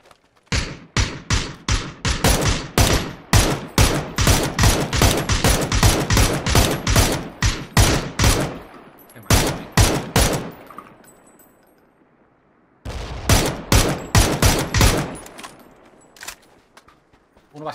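Video game automatic gunfire comes in long, rapid, loud bursts of sharp cracks up close, then a pause of near silence before another fast burst and a few scattered final shots.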